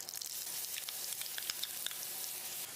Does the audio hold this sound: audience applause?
no